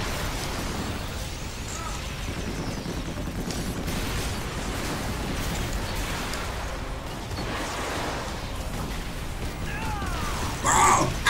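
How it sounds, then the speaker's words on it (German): Explosions and gunfire-like blasts in the EDF Insect Armageddon video game, a continuous noisy rumble of battle with scattered bursts and a sharper blast near the end. "Alles explodiert um uns herum."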